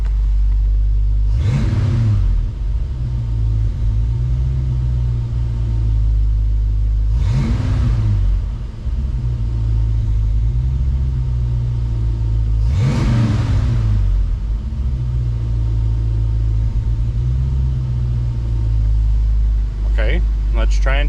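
A 1966 Ford Mustang V8 running on Sniper EFI fuel injection idles steadily and loudly, then gets three short, evenly spaced revs that swell and fall back, with a brief clatter near the end.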